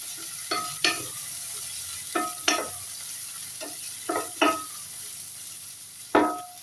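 Potatoes and bitter gourd frying in a pan while being stirred, a series of sharp scraping strokes in irregular pairs over a constant hiss of sizzling oil.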